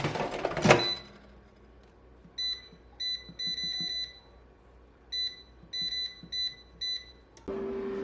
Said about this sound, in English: the timer just went off on this chicken